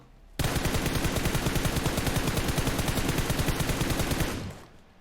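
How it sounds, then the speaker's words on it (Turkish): Automatic gunfire in PUBG Mobile, a loud, rapid, unbroken burst of shots that runs for about four seconds before cutting off. "Ben zannettim bana ateş ediyorlar ama olsun."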